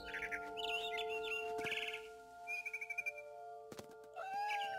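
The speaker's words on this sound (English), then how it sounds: "I heard chirping outside my window. It was a barn swallow going back to her nest." A barn swallow in the video game What Remains of Edith Finch chirps and twitters in quick bursts over a steady electronic hum, with a couple of soft thuds between calls.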